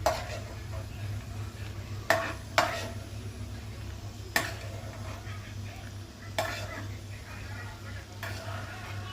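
An ingredient for pulihora fries in a pan until brown, with a soft steady sizzle under a low hum, broken by several sharp clanks of a spoon against the pan.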